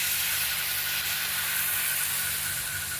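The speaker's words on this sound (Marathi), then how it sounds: "छानपैकी खरपूस भाजेपर्यंत आपण बेसन पोळी भाजून घ्यायची आहे" Besan poli, a gram flour flatbread, frying in oil in a pan, giving a steady, even hiss and faint sizzle that runs unbroken throughout at close range with no voices.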